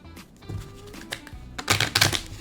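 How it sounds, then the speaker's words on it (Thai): A deck of poker cards is riffle shuffled close by: soft handling clicks first, then a loud, dense burst of rapid crackling flutter in the second half. "แล้วก็ทำการกรีดไพ่หนึ่งรอบ"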